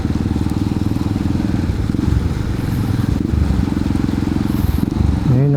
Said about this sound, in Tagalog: Nadadaanan na ng mga sasakyan, mga motor, single, mga tricycle.